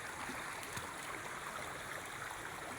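A flooded, deep river flows past in a steady, even rush of water, moderately distant and continuous with no talk.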